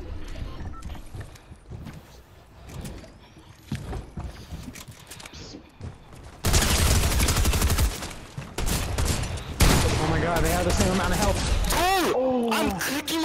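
Shotgun blasts in a multiplayer shooter game crack out loud and close, mixed with other game effects, while players talk excitedly over the action.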